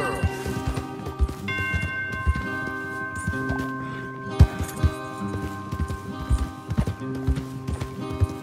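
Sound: horses riding, from video game Red Dead Redemption 2

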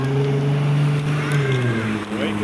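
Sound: Ferrari 296 V6 hybrid engine

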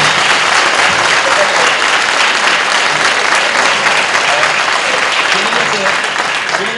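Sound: audience applause

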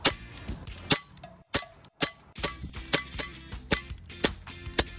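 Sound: blowback airsoft pistol shots hitting a target

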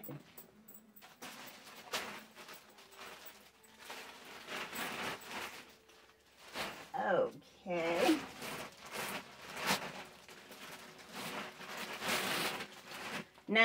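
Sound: zipper on a Steve Madden handbag

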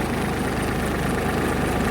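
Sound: Indofarm 3048 DI 50 HP tractor engine running, driving fennel thresher

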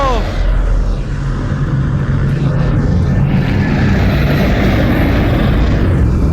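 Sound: airplane flying in Half-Life: Alyx VR video game

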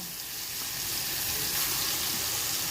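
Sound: moda fish frying in hot oil

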